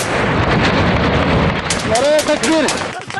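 Combat near an outpost, with heavy gunfire and rocket-propelled grenade blasts in rapid, dense succession, loud and close. Shouting voices break through partway in.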